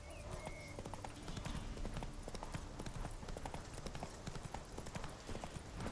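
Hooves of Roach, Geralt's horse in The Witcher 3: Wild Hunt, clip-clopping in a steady travelling rhythm across woodland ground, close and continuous, with a brief snort or whinny underneath.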